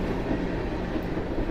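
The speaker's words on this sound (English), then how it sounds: "so that's a pretty quiet train" A quiet train passes on tracks right beside a bindery studio, a faint, steady low rumble and hiss heard from indoors.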